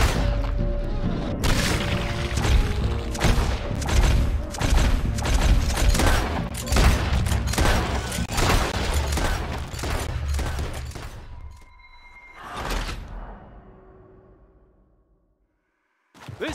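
Heavy gunfire in the Western video game Red Dead Redemption 2, a dense volley of rapid shots and booming blasts for about twelve seconds, then a few scattered distant shots and a whoosh before near silence.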